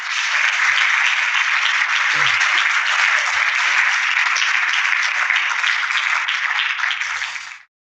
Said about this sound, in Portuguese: Damos um aplauso ao Senhor.